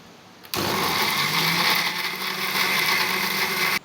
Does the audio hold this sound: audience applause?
no